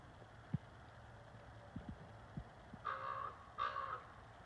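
A bird calls outdoors in a still, very quiet setting. Two harsh, crow-like caws sound a short way off, after a few faint soft knocks.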